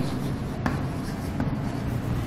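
A maths teacher writes a derivatives question on a board, producing steady, close scratchy marker or chalk strokes with a couple of brief taps, with no talking.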